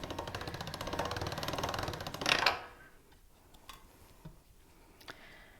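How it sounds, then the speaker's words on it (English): A pasta machine rolls polymer clay into a flat ribbon, giving a close mechanical grinding whir with rapid ticking for about two seconds before stopping, followed by a few faint clicks in near silence. "We're going to run this through the pasta machine and make a flat ribbon."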